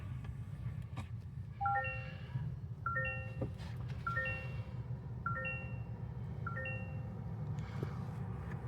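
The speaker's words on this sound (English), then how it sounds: "So what you just heard there was the hybrid system coming to life." A 2023 Toyota Crown Platinum full hybrid system starts up with a series of soft ascending electronic chimes, each a quick rising tone pattern, repeating about six times over a low steady cabin hum.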